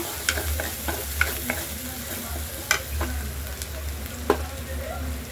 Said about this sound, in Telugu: ఇప్పుడు బాగా వేగిందండి మసాలా అంతా